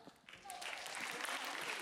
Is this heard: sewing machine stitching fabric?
no